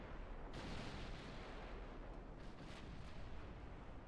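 Naval artillery fire in the Ultimate Admiral Dreadnoughts video game, a dense rumbling barrage of big-gun booms that rolls on continuously with a few sharper blasts.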